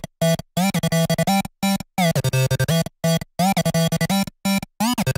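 A bright, buzzy trance synth lead plays choppy stuttering chords in a fast gated rhythm, loud and alone with brief gaps between bursts, for a hyperpop track.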